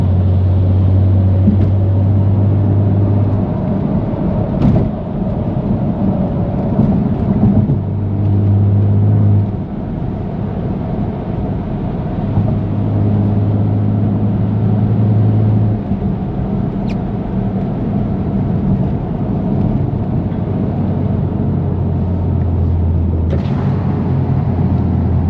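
A BMW F80 M3 Competition cruises city streets in Newark, New Jersey after a blizzard, its engine a steady low rumble throughout, with the drone rising and falling as the car eases through gears and speed changes.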